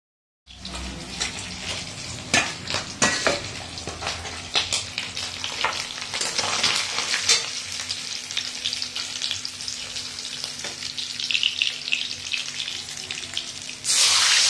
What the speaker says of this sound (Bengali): এখানে দেখো পাবদা মাছগুলো সব ভাজা হয়ে গেছে, খুব তেল চিটকাচ্ছিল।